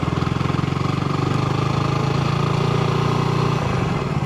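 A motorcycle engine chugs along slowly in a low gear with a steady, close, throbbing putter, easing off slightly near the end.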